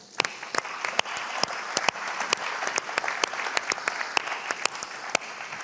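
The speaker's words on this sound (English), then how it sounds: "let's have one more round of applause for all of our winners" A conference audience applauds award winners at a partner event, a steady wash of many hands clapping with sharper individual claps standing out, moderately loud throughout and without talk.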